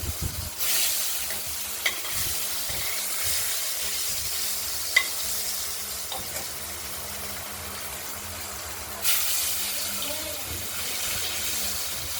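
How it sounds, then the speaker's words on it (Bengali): Pieces of catla fish frying in hot oil in a covered pan, a steady loud sizzle with crackling splatters running throughout and surging at the start and near the end. "ঢাকা দিয়ে দিলাম, গায়ে ছিটকে আসছে তেলটি।"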